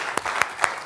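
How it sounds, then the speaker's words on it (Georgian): A Georgian television comedy studio audience breaks into brisk applause, with dense hand claps swelling in a few quick surges over a short burst. "აპლოდისმენტები მეგობრებო."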